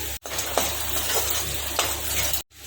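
Chopped green chilies stirred into sizzling masala for paneer capsicum curry, with a steady fry hiss and a few scraping strokes of the spoon across the pan, close and alone.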